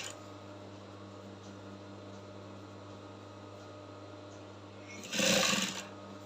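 Sewing machine stitching a ruffle along a chalk line on a sleeve flounce, a quiet, steady motor hum running close throughout, broken near the end by a short, louder burst of noise.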